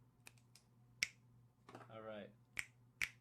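Sharp, crisp finger snaps close by, four or five spaced irregularly against a low steady hum, with a short spoken phrase in the middle.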